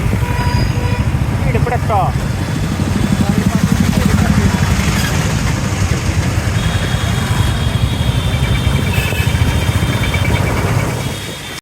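A motorcycle engine hums on a long ride from Govindghat back to Rishikesh, returning from Hemkund Sahib: a continuous low, even drone with steady loudness throughout, fading slightly at the end.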